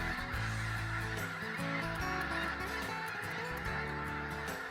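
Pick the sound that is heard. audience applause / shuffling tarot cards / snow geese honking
snow geese honking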